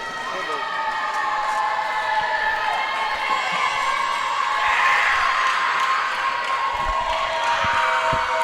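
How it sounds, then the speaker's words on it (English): Crowd noise fills a volleyball gym before an Averett Cougars versus Southern Virginia Knights match, a steady, loud roar of cheering voices that swells toward the middle of the span, with a sustained whistle-like tone running through it. "As you can hear the energy from the crowd, everybody's ready to go."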